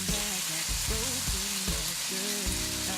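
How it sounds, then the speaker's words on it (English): Vegetables sauté in smoky thick-cut bacon fat for fried collard greens, a loud continuous sizzle and crackle under low background music. "what that's going to do is saute our vegetables in it"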